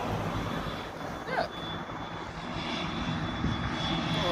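Airplane engine at Southend airport, a broad steady roar filling the whole clip and swelling slightly toward the end, heard from the ground with faint voices in the background.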